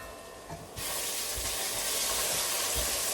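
Onions frying in a hot pot, a steady loud sizzle that bursts up as the lid comes off, with faint clinks of stirring underneath and no talking.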